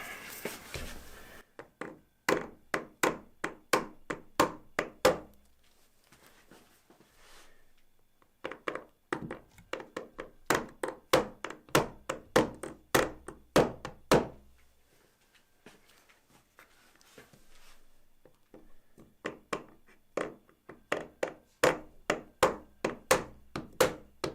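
Bursts of rapid, hollow tapping as a plastic and rubber drop pocket is knocked into a pool table, several quick knocks in a row, then pauses, repeating in three or four close, dry clusters.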